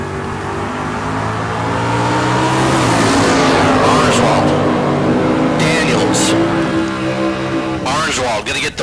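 Bracket race cars, including a Camaro, launching down a drag strip: a loud engine roar builds and sweeps past, with a second burst of revving near the end, under an announcer talking over a PA.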